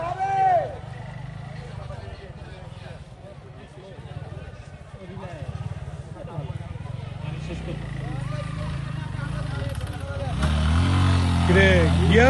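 Motorcycle riding slowly, a low engine drone that rises and swells toward the end, with people talking loudly over it throughout.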